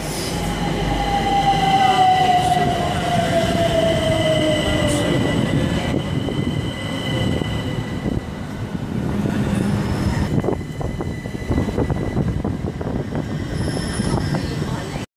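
Train rolling past at close range, loud and sustained, with a high wheel squeal drifting down early on, rattling carriage noise and a gradual fade toward the end.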